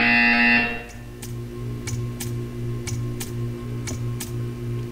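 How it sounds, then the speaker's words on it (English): A loud electronic buzzer in the Portal 2 video game sounds briefly, then cuts off, leaving a steady hum with a regular series of ticking clicks. "You will hear a buzzer."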